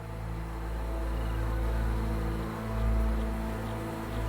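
Honeybees at a hive in early spring, removing dead bees lost over winter, make a low, steady hum with faint buzzing over a constant drone, and no voices.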